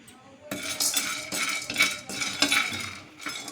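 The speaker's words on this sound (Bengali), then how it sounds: "দুটো একসাথে ভালো করে আমি একটুখানি নেড়ে নেবো গরম কড়াইয়ের মধ্যে" Metal utensil scraping and clinking against a hot wok in repeated strokes while lentils and nuts are stirred, a busy stirring rhythm with no voices.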